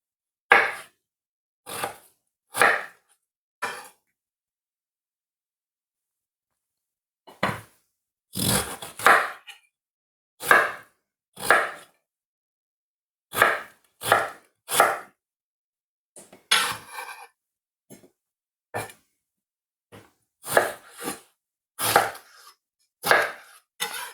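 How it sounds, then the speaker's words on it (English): Knife chopping beetroot into cubes on a board: bursts of sharp, close taps in quick runs, separated by short pauses and one longer gap, with no talk. "So we're going to repeat the same process with the beetroot. Just going to cut them in cubes"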